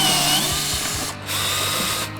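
Power tool spinning out 7mm glove box bolts on a Ford Fusion interior, a loud continuous whirring drone with a brief pause in the middle, heard close up.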